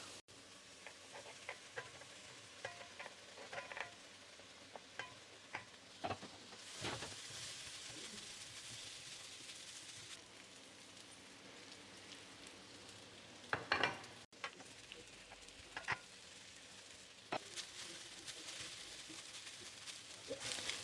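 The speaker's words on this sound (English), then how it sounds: "now I'm going to add in my rice" Rice tossed into a hot pan of softened seasoning peppers for Chinese fried rice, a steady quiet sizzle broken by scraping stirs and occasional clinks of utensil against pan.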